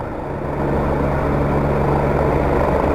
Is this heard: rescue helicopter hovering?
yes